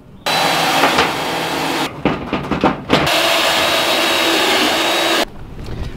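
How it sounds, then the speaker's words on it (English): Power drill driving tech screws into a vintage Porsche 911 quarter panel, with a loud close whine that runs steadily, stops for a few stuttering short bursts, then runs again and cuts off. "put a couple of tech screws in just to hold it roughly in place"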